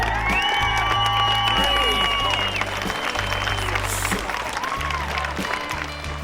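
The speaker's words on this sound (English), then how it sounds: "How about a big round of applause?" An audience breaks into loud, sustained applause and cheering for a soldier, dense clapping mixed with whoops over a steady low backing sound, holding strong throughout before easing slightly near the end.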